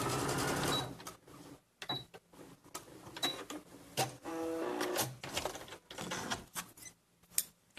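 A sewing machine stitches across the corner of a toddler purse in short bursts of rapid mechanical whirring, separated by brief quiet pauses and small clicks, close and fairly faint.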